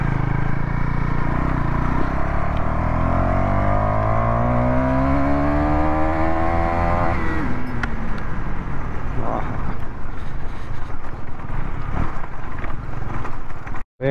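A KTM Duke 250 motorcycle is held at full throttle, its loud, steady engine roar climbing sharply in pitch and then dropping as the gear changes, with no voices.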